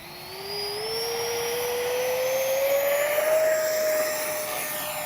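An H-King Flycat V2 RC jet plane cruising overhead, a steady whining electric ducted-fan roar whose pitch rises slowly as it passes, sustained and fairly loud with no talk.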